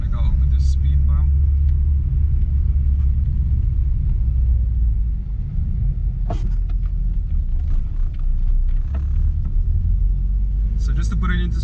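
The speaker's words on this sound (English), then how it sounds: "Just gonna go over the speed bump." A lowered Mk1 Golf on cut springs rolls over a rough road toward a speed bump, with a loud, constant low cabin rumble and a few scattered knocks and rattles from the suspension. No one speaks.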